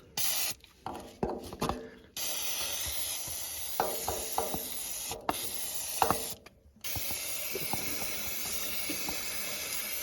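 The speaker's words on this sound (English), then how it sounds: "Use some of my spray stuff to clean it up in there." Several hissing bursts of penetrating oil from an aerosol can, close and loud, broken by short pauses, with faint clicks and rustling in between.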